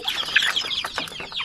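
Young chicks fed three times a day in their pen, chirping and clucking in a busy overlapping chorus of short high peeps, close by and moderately loud with no talking.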